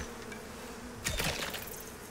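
Bees buzz in the Icarus survival game, a faint drone that swells suddenly into a louder, nearer burst of buzzing partway through, then eases back.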